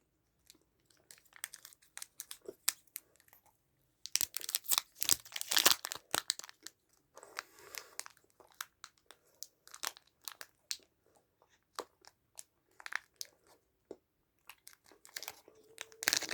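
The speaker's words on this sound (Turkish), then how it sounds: "Son olarak Ülker Kokostar'ın tadına bakacağım." Wrapper of a small Ülker Kokostar chocolate crinkling and tearing, followed by crunchy close-up chewing, intermittent sharp rustles and bites over a quiet background.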